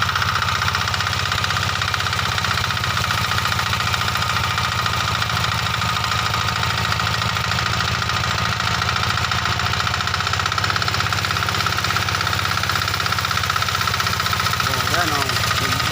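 A mid-pitched engine runs continuously with a steady, throbbing idle and slight rises and falls in intensity; faint voices are audible near the end.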